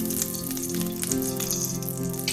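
Ghee, mixed with olive oil, sizzles steadily in a hot pan, a continuous crackling hiss with small pops that stays close and even throughout, with no talk over it.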